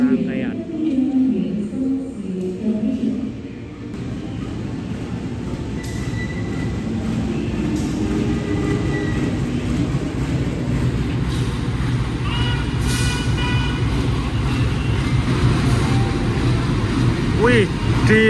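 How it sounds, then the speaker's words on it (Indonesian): The Serayu train's locomotive rolls into track 2 of a station, a loud continuous rumble close by with brief wheel squeals and screeches. "ini dia lokomotif kereta api Serayu masuk jalur 2 dan siap digantikan ke rangkaian"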